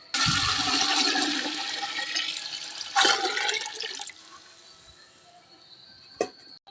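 Five litres of water poured into a pot while making milk payasam gush loudly and steadily for about four seconds, then fade to a quieter trickle with a few faint clinks.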